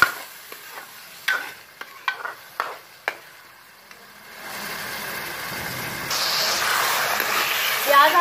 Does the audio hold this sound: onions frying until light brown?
yes